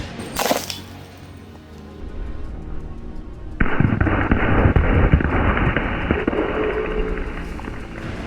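Molten salt poured into river water, setting off a dense run of sharp cracks and pops like firecrackers. They start after a brief early burst and carry on loud and continuous to the end.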